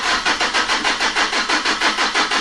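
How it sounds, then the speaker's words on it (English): A 2003 Renault Laguna 1.9 dCi diesel engine cranking over and over without catching, battery sounding somewhat low, a fast rhythmic churning pulse, loud and close, with no talking. "Phil, do me a favour and spin that engine over please, just to prove it doesn't start."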